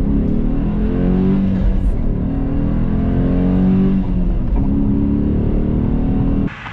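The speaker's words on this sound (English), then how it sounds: "Great sounding car." A Dodge Hemi car from 2016, racing down a runway, its engine revving and accelerating with a loud, deep, sustained roar that climbs through gear changes before cutting off abruptly near the end.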